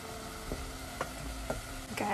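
Steamed vegetables go into a frying pan with garlic, ginger and cayenne and are stirred through, giving a steady low sizzle broken by several light knocks and scrapes about every half second.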